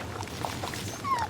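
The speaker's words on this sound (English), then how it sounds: "Little puppy! Who's a good boy?" A puppy in the medieval adventure game Pentiment gives a single short, high whimper near the end, over a faint background murmur.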